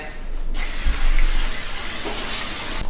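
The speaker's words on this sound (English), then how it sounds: "We're gonna first spray our pan." A short, hissing burst of cooking spray onto a pan starts abruptly and sprays continuously for about two seconds, close by, before cutting off.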